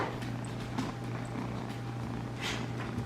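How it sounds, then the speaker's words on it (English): A cat purrs in a steady, continuous low rumble throughout, close by and fairly loud, with faint household background noise and no talking. "It's the kitty whisperer, and there's the Goldie"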